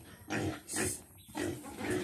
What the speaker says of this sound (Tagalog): Yan, may baboy.